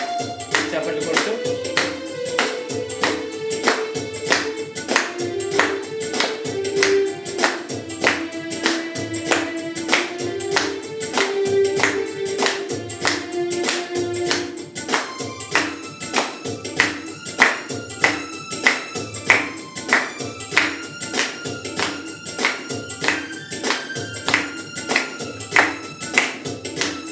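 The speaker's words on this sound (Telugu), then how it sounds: "చప్పట్లు కొడుతూ" A church congregation at Sunday worship claps steadily in time through a devotional song, the loud, even beats riding under singing and instruments for the whole stretch.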